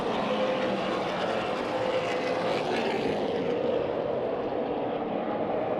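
Super late model race car engines rev hard and steadily around the Bullring oval at Las Vegas Motor Speedway, a continuous loud, droning roar with no break in the sound.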